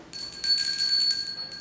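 A small hand bell rung to mark speaking time at a student debate tournament, giving a bright metallic ring that sustains across the clip with a couple of fresh strikes, near and clear with no talk.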